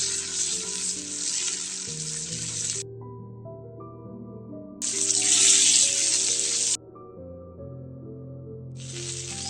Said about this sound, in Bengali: গরম হয়ে যাওয়ার পর দিয়ে দিব মাছ, পাঙ্গাস মাছগুলি দিয়ে দিব।